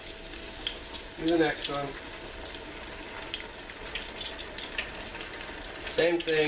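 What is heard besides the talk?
beer-battered pieces frying in hot grease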